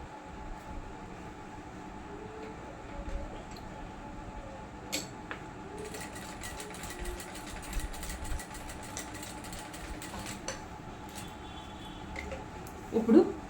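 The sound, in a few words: sewing machine stitching kurti fabric in V shape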